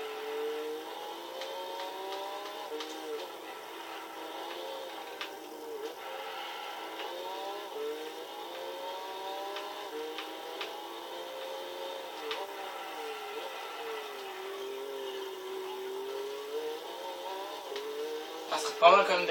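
A Tommykaira ZZII engine in Gran Turismo 6 drones and whines steadily as its pitch rises and falls through gear changes, sitting beneath continuous French-speaking commentary, with a brief louder burst near the end.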